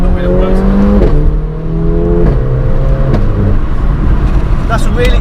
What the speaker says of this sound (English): the crack on the upshift is so sort of aggressive